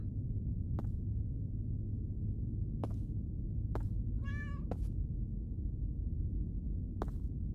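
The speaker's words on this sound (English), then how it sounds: "Oh, there's a cat." A cat in a horror video game gives one clear, wavering meow midway through, heard alone over a constant low hum, with a few faint clicks around it.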